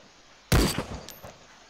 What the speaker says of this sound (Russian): Кто стрелял? Это я.